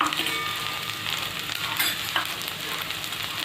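Coriander powder, garam masala, turmeric and red chilli powder roast in a pan for potato and capsicum bhaji, giving a continuous close sizzle with soft scraping stirs.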